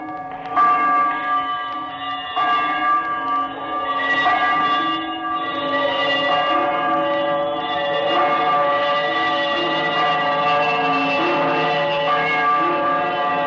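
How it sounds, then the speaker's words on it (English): An old, long-disused bell swings and rings in a radio drama, its rich overlapping tolls starting slowly then building into a continuous sustained clangour, close and prominent with no talk. "he saw this bell begin to swing"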